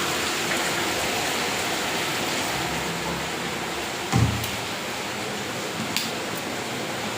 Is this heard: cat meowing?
no